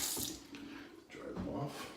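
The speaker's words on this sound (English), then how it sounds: "Let me wash up my hands here so that way I don't get any soap on it." Hands are washed under a running tap, a steady close rush of water with splashing and rubbing over two seconds.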